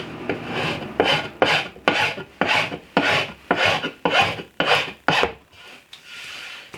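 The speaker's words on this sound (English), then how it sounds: "what I'll use is the edge of my file to get that cut" A hand file is cutting the edge of a wooden bed frame in about ten steady, evenly spaced rasping strokes, loud and close, with no talking.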